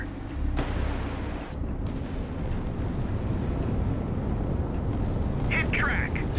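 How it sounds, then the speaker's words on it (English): A naval missile salvo fires in the Sea Power video game at Dong Hoi, with a sharp blast, then a sustained roaring rumble of launches and a second burst, while voices speak throughout. "Salvo fire."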